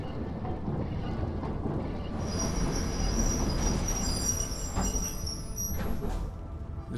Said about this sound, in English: The train stops now.